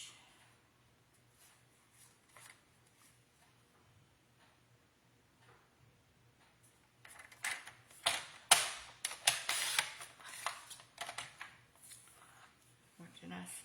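Scrapbooking paper for a winter park mini brag book being cut, soft faint snips and paper rustles that build into a busier burst of crisp cutting and handling near the end, with quiet talk in places.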